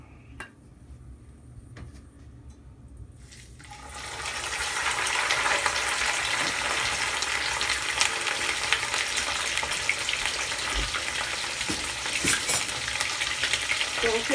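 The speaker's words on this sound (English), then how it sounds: "So I'm gonna start frying the fish." Red snapper for Jamaican escovitch fish sizzles in hot oil, the loud steady frying hiss rising suddenly and holding strong, with occasional clinks of a pan and utensil.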